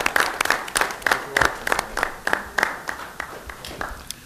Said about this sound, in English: it's well worth a round of applause.